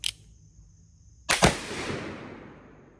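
A Pietta Colt 1851 Navy black powder revolver fires one sharp, loud report close by, heard twice in quick succession, then a long fading echo, after a brief click.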